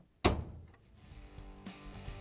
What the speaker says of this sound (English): And now we can proudly close the door.